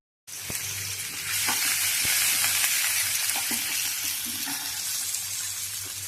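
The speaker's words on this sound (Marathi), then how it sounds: "आता आपण फोडणी देऊया" Spices for palak paneer tempering sizzle in hot oil, a steady loud crackling hiss with a few sharp pops and a low background hum, no voices.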